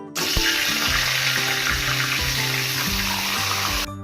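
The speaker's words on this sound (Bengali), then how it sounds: "এবার লবণ হলুদ দিয়ে মাখিয়ে রাখা মাছের মাথাটা ভেজে নিব" A fish head rubbed with salt and turmeric fries in hot white oil in a kadai, giving a steady, loud, dense sizzle that runs the whole time over a soft tonal musical backdrop.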